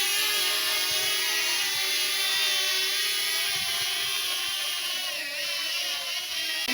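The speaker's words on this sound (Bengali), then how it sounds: "ড্রোনটা ওড়াচ্ছি" A DJI drone in flight gives off a loud, steady high-pitched propeller whine that holds close and constant throughout, with slight pitch wavering.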